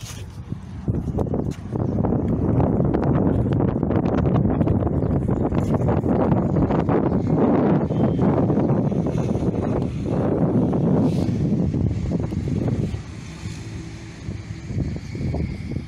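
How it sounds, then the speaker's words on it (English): Strong wind buffets a small sailboat on the water while its booms are being cut to size, a loud steady roar with blustery gusts that eases slightly near the end, with no talk over it. "it's a little bit windy"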